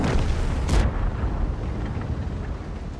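A heavy tank's cannon fires in a tank battle video game, the THN 105/1000 Heavy Tank, with one loud, sharp blast followed by a deep, rumbling decay.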